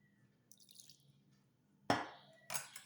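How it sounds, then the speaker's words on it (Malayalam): A little water is poured into a batter mixture in two short splashing bursts, a second apart, against an otherwise quiet background. "ഒരു തുള്ളി വെള്ളം ഒഴിക്കുക"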